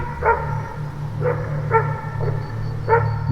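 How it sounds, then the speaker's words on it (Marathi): Several dogs bark in short, spaced bursts at a moderate distance over a steady low hum, with no voices present. "दूरवर कुत्र्यांचे भुंकणे ऐकू येत होते"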